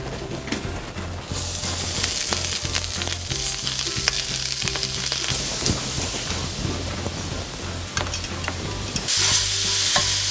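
Pork for Nepali choila sizzles loudly in a hot pan, steady frying hiss near and close, broken by scraping stirs as the meat is turned.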